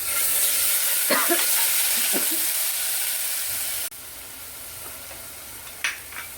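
Ginger, green chili and garlic paste frying in hot oil in a home kitchen, a steady close sizzle with a few stirring scrapes, the hiss dropping and softening partway through.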